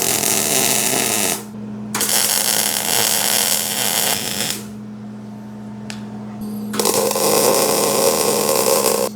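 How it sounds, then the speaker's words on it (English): Loud buzzing crackle of short tack-weld bursts on steel for a dirt bike tire-changing stand, three separate arcs with quiet gaps between, a steady machine hum underneath throughout and no talking. "I'm gonna go ahead and tack this real quick and just get this in place."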